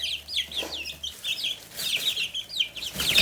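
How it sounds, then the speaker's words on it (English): Several chickens cluck and chatter nearby in short, busy bursts, with a faint rustle of wings toward the end. "Bunch of chickens."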